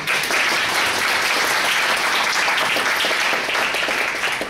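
Sustained audience applause at an academic conference plenary session, a steady dense wash of many hands clapping, loud and even throughout without speech.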